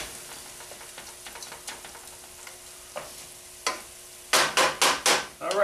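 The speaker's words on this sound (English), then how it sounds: "Just about a 1/4 cup of wine, just to deglaze my pan." Wine poured to deglaze a paella pan with rice sets off a faint sizzle, with light scraping and stirring taps through most of it and a burst of sharp, loud scraping strokes near the end.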